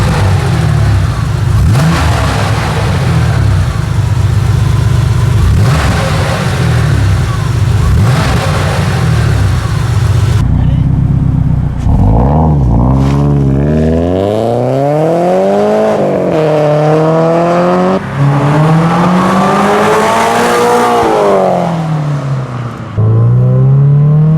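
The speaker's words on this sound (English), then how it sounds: "You gotta love that flat 6 sound" A Porsche flat-six engine revs loudly and close by, its pitch climbing and falling in several sweeping pulls after a steady rumbling idle.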